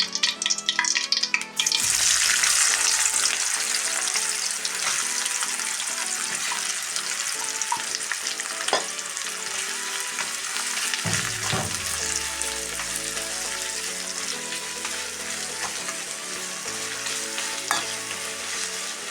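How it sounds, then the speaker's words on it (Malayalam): Sliced onion drops into two tablespoons of hot oil in a pan, bursting into a loud hiss that settles into a long steady sizzle with occasional stirring scrapes and clinks. "അതിൽ 2 ടേബിൾ സ്പൂൺ ഓയിൽ വീത്തിൻ്റെ. അതിൽ ഞാൻ സബോള ഇടണം"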